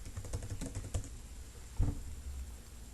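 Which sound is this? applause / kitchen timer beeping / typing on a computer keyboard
typing on a computer keyboard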